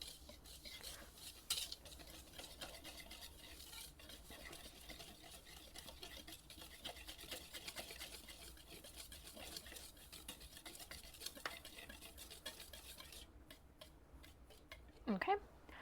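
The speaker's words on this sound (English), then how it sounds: "And give those a stir." Sugar, baking powder and salt are stirred together in a mixing bowl, giving a faint, steady scraping and brushing that runs throughout and ends in a brief louder clink.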